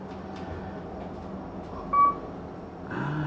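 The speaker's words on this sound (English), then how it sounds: "Yes, the famous KONE beep." A KONE ecodisc elevator in a grocery store gives a single short, clear electronic arrival beep over quiet cab hum, followed by the rumble of the car or door moving.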